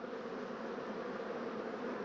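A low, steady buzzing hum of honeybees spilling off a frame pulled from a log hive, continuous and close with no voices.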